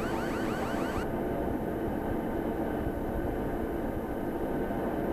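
Beechcraft King Air turboprop engines roar steadily at takeoff power, a loud, even, broadband drone heard from inside the cabin with a whining tone that fades early on.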